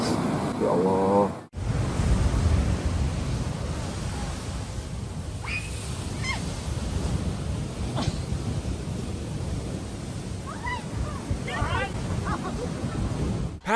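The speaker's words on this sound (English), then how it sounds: "These fishermen are attempting to navigate some huge break waves" Huge breaking ocean waves roar around a fishermen's boat in a constant, loud wash of surf and wind, with faint shouting voices breaking through now and then.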